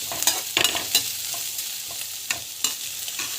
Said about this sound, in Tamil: ஸோ கடலைப்பருப்பு வந்து ஆட் பண்ணுறேன். ஸோ நல்லா வதங்கட்டும்.